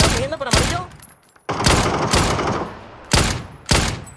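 Gunfire in the battle royale game PUBG: loud, close bursts of rapid shots in several separate volleys, with short pauses between them and people talking over them.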